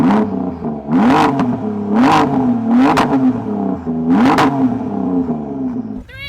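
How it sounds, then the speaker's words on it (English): A car engine is revved repeatedly, about five sharp rising bursts in a row over a rumbling idle, loud and close, ending abruptly. "Camilo, will you rev up your car"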